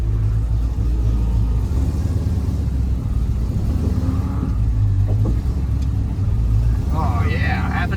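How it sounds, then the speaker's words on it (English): A ratty 1969 Dodge Charger's engine runs loud and close throughout with a steady, deep rumble, its pitch shifting slightly, and a voice is briefly heard over it near the end. "Will it crank? Will it run? Oh! Yes, it will run."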